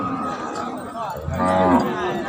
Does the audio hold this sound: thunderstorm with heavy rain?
no